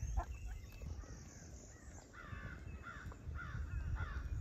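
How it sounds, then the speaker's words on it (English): Agitated crows caw repeatedly outdoors in a rapid run of harsh calls at a moderate distance, over a steady low background rumble. "And the crows are really upset over here."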